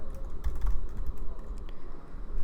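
Rapid typing on a computer keyboard, a dense stream of quick close key clicks running throughout over a steady low background hum, with no voice.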